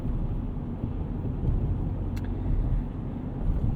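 A 2023 Chevrolet Colorado Trail Boss pickup drives through the city, a steady low engine and road rumble heard from inside the cab with no talking.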